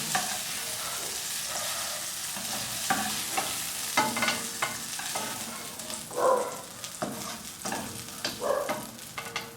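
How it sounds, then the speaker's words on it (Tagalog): Onion and garlic sauté in butter in a pan after hotdogs have been fried, giving a continuous close sizzle with repeated stirring scrapes and brief crackling bursts, and no voices. "hanguin din natin at magigisa na tayo ng sibuyas,"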